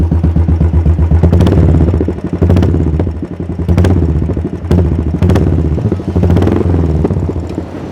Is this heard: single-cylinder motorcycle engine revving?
yes